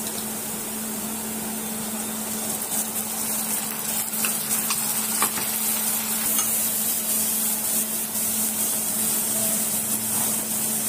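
Ground masala paste frying with browned onions for a kaleji sukha, a dense, even sizzle throughout with a steady background hum and occasional faint stirring clicks, no talking.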